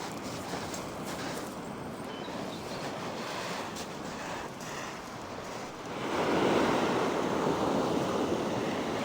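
Surf breaking and washing along a seashore beneath cliffs in winter, a steady broad roar that swells louder toward the end, with wind buffeting the microphone throughout and no talking.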